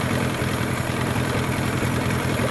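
A 15hp outboard motor, already warm, runs steadily on fast idle with a constant loud, even engine drone throughout and no other sounds.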